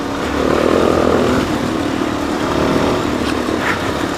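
A motorcycle engine drones steadily on a dirt road dotted with puddles, close and moderately loud, with a few brief rises in the rumble.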